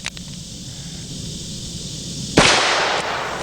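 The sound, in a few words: Dan Wesson handgun shots with ported shroud muzzle brake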